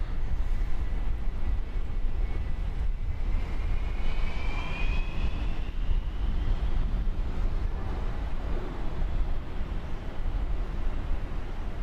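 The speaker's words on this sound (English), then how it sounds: "2182 to flex jet Denver, 737-800, getting ready to take off" A Boeing 737-800 jet airliner takes off at an airport at night, a steady loud engine roar with broadband rumble and a rising whine, heard at a distance.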